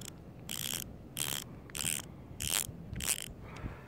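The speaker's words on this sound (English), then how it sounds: "the ratcheting mechanism in this one seems a bit, more fine-tuned. Seems like you get more ratcheting in." A Snap-on ratchet clicks close up in six evenly spaced bursts of fine, rapid ratcheting, each about a third of a second long with short pauses between, and no one speaks.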